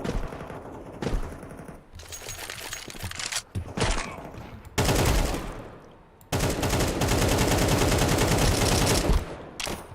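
Rapid automatic gunfire in Counter Strike 2, several loud close bursts separated by short pauses, the longest sustained volleys near the end.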